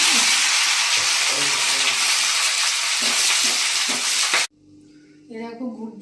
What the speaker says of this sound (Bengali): এই যে ফুলকপি আলু আর মটরশুঁটি এই যে ভাজছি